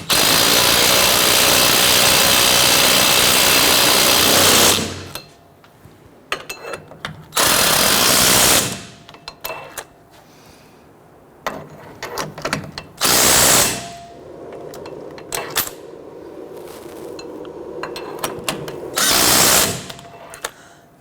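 A power tool runs down the wheel hub bolts on a 1992-1996 Toyota Camry during a rear wheel bearing and hub replacement, loud whirring bursts of several seconds each with quieter pauses, clanks and handling noise between them.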